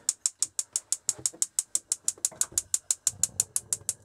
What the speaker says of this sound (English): There we go, we've got the gas coming through now on the hobs.